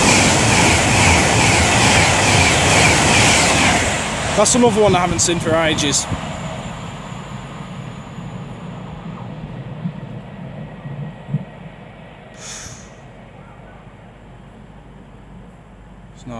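Avanti West Coast Class 390 Pendolino electric train on the West Coast Main Line at Nuneaton, a loud broadband rush passing close for the first four seconds then fading, with someone talking over the tail end.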